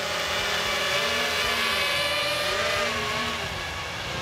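The motors of a Phoenix HD drone whine loudly as it takes off, a close, continuous buzzing drone whose pitch wavers up and down throughout, with no voices.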